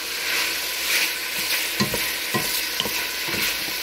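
Bacon strips frying in a pan, a loud dense sizzle with a few scraping stirs, alone without talk.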